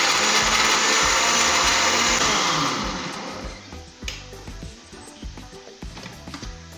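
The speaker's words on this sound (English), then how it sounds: "So just blend it until you're going to make some pastes that you're going to use for the masala, for the chips." A kitchen blender whirs loudly and steadily for about three seconds, grinding a paste for chips masala, then cuts off, leaving scattered clatter and stirring sounds.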